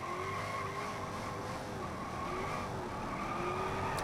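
A 298 hp Ford Mustang in a BeamNG car long-jump contest drives at speed with a steady engine drone and wavering tire squeal, continuous and fairly close, with no talk.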